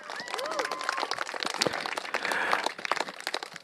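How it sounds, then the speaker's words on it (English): Applause at a Singapore political campaign rally of the Red Dot United party, Jurong East-Bukit Batok, a moderate crowd clapping for a couple of seconds with voices and a brief whistle mixed in before it thins out. "another round of applause"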